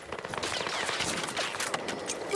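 Dense, continuous battlefield gunfire and blasts in the shooter game Battlefield 6, with a grenade explosion somewhere in the loud, unbroken clatter of automatic weapons; no speech.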